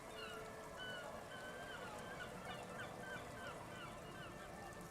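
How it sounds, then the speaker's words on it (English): Seagulls call repeatedly overhead in the video game Disco Elysium, their short cries scattered over a steady, dense ambient wash with no pauses. "Nothing but the sound of seagulls high above in the sky"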